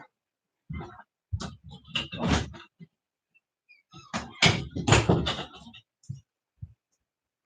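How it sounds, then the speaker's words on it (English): A door rattles and thumps as a cat claws at it, two clusters of scraping, knocking bursts separated by quiet, close and moderately loud with a few isolated knocks at the end. "My cat is clawing at the door."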